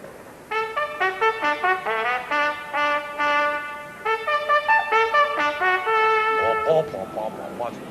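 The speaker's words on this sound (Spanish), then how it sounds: "Imaginaos esa melodía interpretada al estilo de Brahms, con un rico sonido alemán." A Gershwin melody played in a Brahms-like style with a rich German orchestral sound: a clear, sustained melodic line in distinct phrases, fairly close, with no talking.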